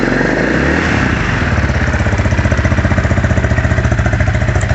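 A KTM LC4 640 single-cylinder motorcycle engine runs loud and close, settling from a rougher start into a steady, rapid thumping idle with no talk.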